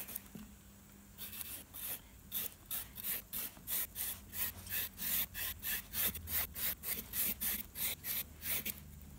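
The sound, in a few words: slicing a courgette into thin strips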